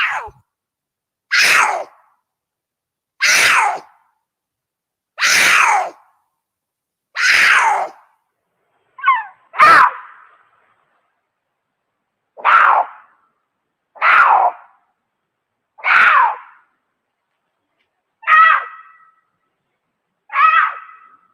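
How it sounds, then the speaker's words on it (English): Wild cats trade loud, harsh screams at each other, about eleven separate yowls and shrieks spaced a second or two apart, each one abrupt and fairly close, with short gaps of silence between them. "I've got a couple of cats serenading each other"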